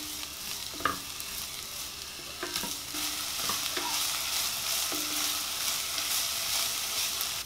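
Chopped onion sizzles in olive oil in a pot, a steady hiss broken by a few light scrapes and clicks of stirring.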